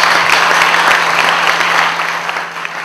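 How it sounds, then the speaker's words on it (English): Sustained audience applause fills the room at a motivational comedy talk, a dense steady wash of many hands clapping that stays loud throughout and eases slightly toward the end, with no voices over it. "Give him a big round of applause."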